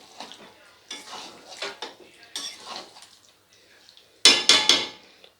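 Chicken masala is stirred in a pan with scattered scraping and clinking of a utensil against metal, ending in a few loud, close metallic clatters like a lid being handled.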